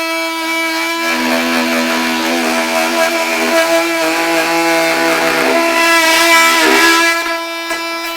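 A Bosch oscillating multi-tool runs at full power, giving a loud, steady buzzing whine with strong harmonics that holds for several seconds and swells slightly near the end, close up and without speech.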